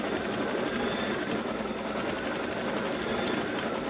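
A sewing machine runs steadily while quilting simple scrolls on fabric, a continuous fast, even whir, close and moderately loud without pauses.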